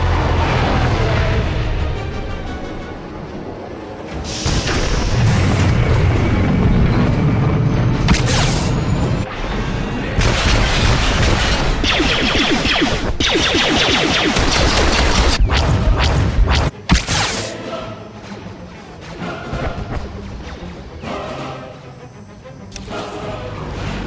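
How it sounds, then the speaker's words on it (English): Enemy artillery fire pounds a beach battlefield in Star Wars: The Old Republic, with loud, dense crashes and booms landing one after another over a steady roar, plus sharp impacts and rumbling, all close and continuous without pause. "Enemy artillery incoming!"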